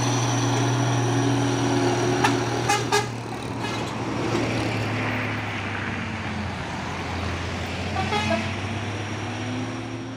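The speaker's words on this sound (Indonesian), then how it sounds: "Masuk lagi nih truk apa? Losbak. Trinton Losbak." A Trinton flatbed truck rolls along a road, its engine a steady low rumble with a couple of sharp horn toots early on and faint traffic noise around it.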